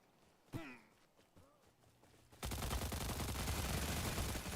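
Gunfire in the shooter game Stalcraft. After a few sharp single shots and brief quieter sounds comes a loud sustained burst of rapid automatic fire that lasts about two seconds, with no talking.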